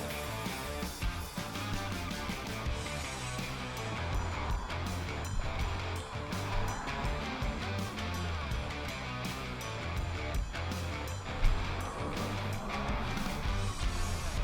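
A small BYD Seagull electric car rolls downhill with a continuous, even rush of road and wind noise and a low rumble that holds steady throughout.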